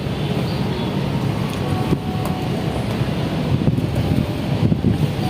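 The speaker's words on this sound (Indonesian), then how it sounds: "Angin kuat ini" Strong wind buffets the microphone outdoors in a continuous rough roar. Gusts swell and fade without pause, and no voices are heard.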